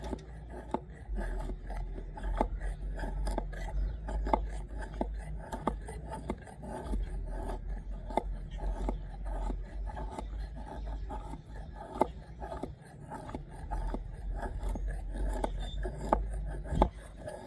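Small saber-grind K329 steel bushcraft knife blade scraping wood shavings, repeated short dry scrapes in an uneven rhythm, close and quiet.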